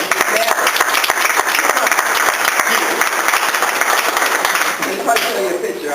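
Members at a club meeting break into sustained applause to congratulate a fellow member on his marriage, loud, close clapping from a crowd with voices talking over it.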